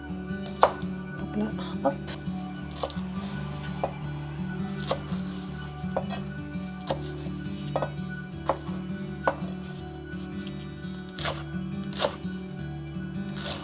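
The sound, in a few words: chopping chives into small pieces with a knife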